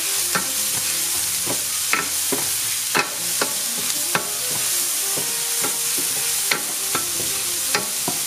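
Onions, garlic, ginger and scallions stir-fry in hot oil on medium heat, sizzling steadily close by while a utensil scrapes and taps the pan in a loose, repeated rhythm.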